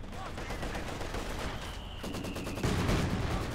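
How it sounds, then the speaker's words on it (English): Rapid machine-gun bursts and mortar blasts in the World War II strategy game Company of Heroes 2, a dense continuous crackle of gunfire with heavier thumps, steady and moderately loud throughout. "He's getting blasted on by that mortar."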